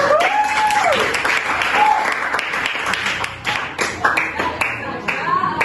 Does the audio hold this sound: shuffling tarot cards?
no